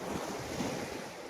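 Cold wind gusting across the open shore at Veraval beach, with surf washing in and boats moored nearby; a steady, close roar of wind buffeting the microphone, continuous for the whole moment with no voices.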